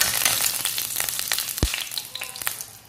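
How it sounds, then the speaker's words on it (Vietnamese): Oil sizzles and crackles steadily in a hot pan for stir-fried sweet potato greens with garlic, a close, continuous hiss with small pops and a single low knock of the pan partway through. "Chảo nóng rồi chúng ta cho dầu vào"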